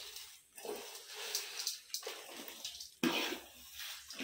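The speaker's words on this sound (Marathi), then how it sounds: "मग पाणी भरणार." Water is filled into a bucket in a home in the Konkan region, a close rushing, splashing flow that comes in uneven bursts and breaks off abruptly before starting again.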